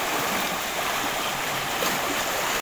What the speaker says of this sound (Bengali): দূরের ওই কোনো একটা পাহাড় থেকে এই জলটা নেমে এখানে আসছে।